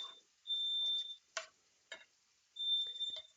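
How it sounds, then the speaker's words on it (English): A hallway smoke alarm, set off by cooking with an iron skillet, emits high-pitched electronic beeps, two long tones separated by short clicks and knocks, in an otherwise quiet room. "Yep, that was my smoke detector in my hallway."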